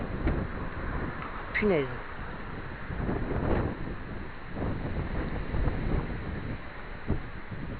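Strong gusts of wind buffet the microphone during a thunderstorm in Vougy, a continuous rough roar with surges, while a person speaks briefly.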